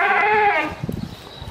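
A Sialkoti dairy goat on a farm gives one loud, close bleat with a wavering, harmonic-rich tone. After it come soft shuffling and knocking noises from the pen.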